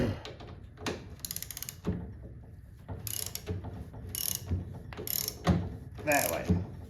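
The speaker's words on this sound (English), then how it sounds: "I take and put my socket on there and I turn that" A ratchet socket wrench turning an adjuster, giving bursts of rapid clicking pawl ratchet sounds in short repeated strokes, close and clear, separated by brief pauses and handling clunks.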